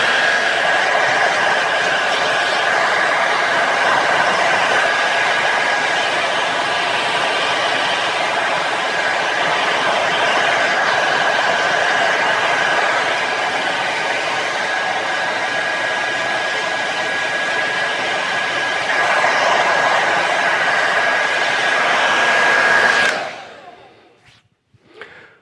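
A hair dryer blows continuously at close range with a steady whine, then cuts off abruptly near the end, leaving near silence.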